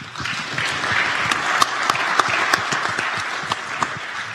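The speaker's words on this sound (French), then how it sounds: "c'est Michel Vignal, qu'on applaudit également." Audience applause breaks out at a business round-table at the Troyes and Aube chamber of commerce, with dense clapping throughout and a few sharper individual claps standing out near the microphone.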